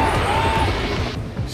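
Game engines race loudly at the start of a track on the Daring Docks stage in Go Gordon, a steady droning engine rumble with crash-like textures and no talk over it.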